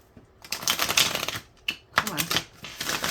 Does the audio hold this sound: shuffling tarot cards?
yes